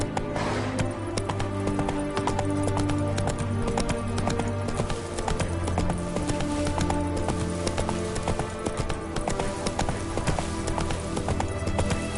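Roach the horse gallops in The Witcher 3 video game, a loud steady clip-clop of hooves running on, with a brief whinny blended into the pounding rhythm.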